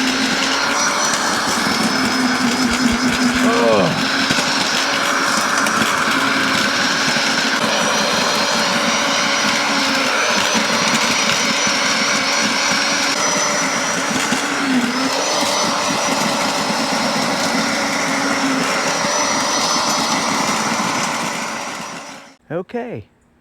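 A garden tiller engine runs steadily while churning up long-unworked ground with old landscape fabric in it, a loud continuous motor drone with brief changes in load, cutting off near the end.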